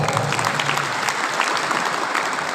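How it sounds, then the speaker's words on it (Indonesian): Audience applause at a political organisation's gathering in Riau, Indonesia, during a secretary-general's speech: dense, steady clapping from a crowd, close and fairly loud, holding evenly for the whole stretch with no voices over it. "Tepuk tangan untuk beliau."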